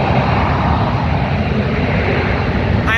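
Boeing 787-8 jet engines at full takeoff power in the Infinite Flight simulator, a loud, steady broadband roar that holds unbroken for the whole stretch.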